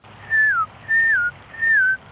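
A person whistles to call ducks, giving three evenly spaced sliding whistles that each drop in pitch, clear and close, over a low steady outdoor hum with no talk.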